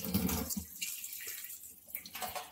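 Water running and splashing as a desi chicken is rinsed again in a sink, a close steady gush with a short quieter dip midway.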